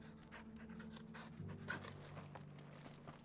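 Torgal, the dog companion in Final Fantasy XVI, pants quietly in quick, rhythmic breaths, close by and soft, with a faint whimper-like tone mixed in.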